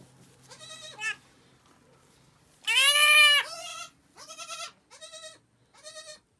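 A goat bleats several times in short, nasal cries close by during a birth, one longer and louder call standing out among quieter bleats, with silence between.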